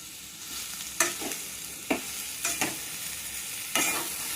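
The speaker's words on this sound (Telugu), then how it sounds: "ఇక్కడ పసుపు, ఉప్పు, కొరియండర్ పౌడర్ అండి, కారం, గరం మసాలా ఇవన్నీ చక్కగా కలుపుకోవాలండి" Spices being stirred into a sizzling pan: turmeric, salt, coriander powder, chili powder and garam masala, with a handful of distinct scraping strokes over a soft background sizzle, close and fairly quiet.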